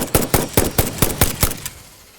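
Rifle fire in the video game Satisfactory: seven sharp shots in quick, fairly even succession, loud and close, then a short fading tail with no talk.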